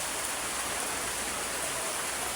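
Steady rain pours down, a dense even hiss of drops with no pauses and no voices.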